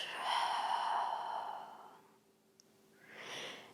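A big, soft exhale during a yoga session, a breathy rush lasting about two seconds, followed by a quiet pause and the start of a lighter breath.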